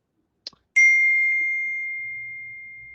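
A text message notification chimes in earbuds: a short tick, then a single bright ding that rings out and slowly decays over more than two seconds, fairly quiet and alone.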